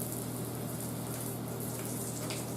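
Water streams steadily from a hose or tap to rinse concrete dirt off a part, a constant close hiss and splash with a low pump hum beneath and no talk.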